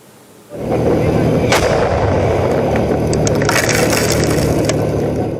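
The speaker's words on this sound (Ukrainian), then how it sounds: "Це було влучання з артилерії" Near, powerful artillery impact close to a combat medic near Bakhmut, a sudden heavy blast that rolls into sustained loud rumbling and debris crackle for several seconds.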